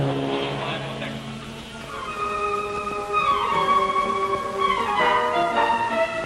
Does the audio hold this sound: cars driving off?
yes